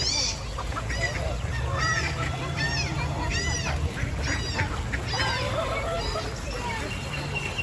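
Geese and ducks honk repeatedly at a pond, close by and loud, over a busy outdoor background of chatter, with chickens, pigeons and children around.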